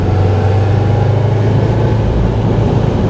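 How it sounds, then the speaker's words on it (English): 2020 Subaru WRX Limited turbocharged engine running warm at a steady, loud, low droning idle close to the listener, alone with no voices. "Okay, this turbo sounds really good."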